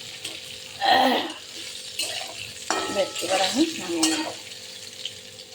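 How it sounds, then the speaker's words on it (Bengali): Pieces of pointed gourd (potol) frying lightly in oil, with a steady sizzle, intermittent stirring scrapes and clinks from a utensil against the pan. "হালকা করে একটু ভেজে নেবে"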